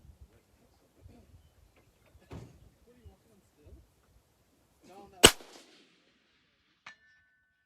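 A single sharp, close crack from a Sig Cross .308 rifle at a range, preceded by quiet shuffling and low voices, with a fainter metallic ping shortly after.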